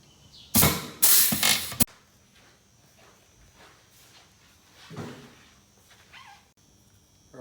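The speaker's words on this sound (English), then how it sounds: "One more after this, so let's screw in." A bracket is being screwed onto a Liteweight Panorama 506 caravan under restoration. Two loud, grinding mechanical bursts come close together, then quieter creaks and knocks follow at intervals.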